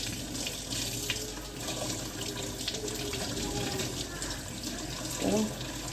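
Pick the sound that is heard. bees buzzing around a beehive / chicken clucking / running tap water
running tap water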